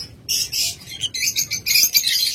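Pet birds calling from a cage, offered for sale, with busy overlapping high chirps and tweets in steady bursts close by, over low background rumble.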